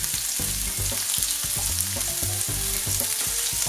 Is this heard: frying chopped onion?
yes